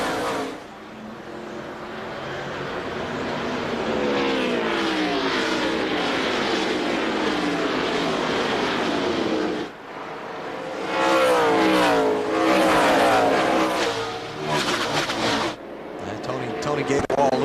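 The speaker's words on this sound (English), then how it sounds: "That's Kurt Busch, 97 car, working on Bobby Labonte." NASCAR Winston Cup race cars roar around New Hampshire International Speedway, a loud continuous engine drone whose pitch rises and falls as cars pass, under a commentator's steady talk.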